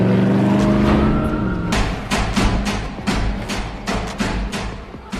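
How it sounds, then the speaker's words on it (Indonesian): A police car drives off in a scene from the 2010 film Legion, with loud engine roar and revving building into repeated sharp bursts, close and without speech. "Dengan menaiki mobil polisi, Michael pun langsung berangkat menuju ke tempat si bayi."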